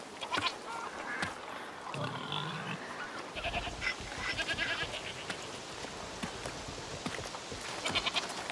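Goats in the video game A Plague Tale: Requiem bleat repeatedly in short, wavering calls over a busy background, several overlapping cries spread across the clip.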